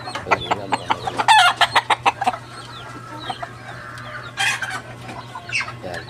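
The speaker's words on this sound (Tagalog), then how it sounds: "mga manok na nakulong, native po ito." Native caged chickens cluck in quick rhythmic bursts close by, then a young rooster crows once over a low steady hum.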